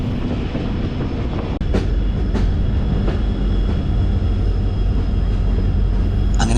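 Passenger train on the Mangaluru–Yesvantpur route through the Sakleshpur ghats, a loud continuous rumble from inside the carriage with rhythmic wheel clatter over rail joints and no talk.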